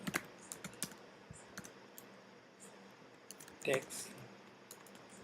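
Someone types a program on a computer keyboard in quick, uneven bursts of close key clicks, with a voice speaking briefly.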